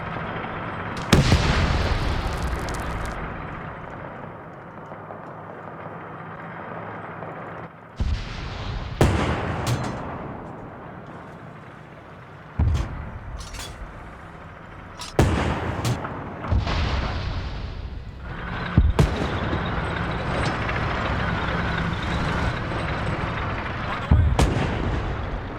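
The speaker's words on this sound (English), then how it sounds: "Now I'm hearing things shoot at each other." Bursts of gunfire and heavy artillery blasts in a video game, arriving in separate loud volleys with sharp onsets and lingering rumble between them, mostly alone with little talk.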